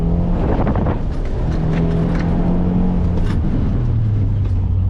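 A car's engine revs hard and accelerates through an autocross run at an SCCA school, a loud, steady drone close up that climbs and shifts in pitch without a break.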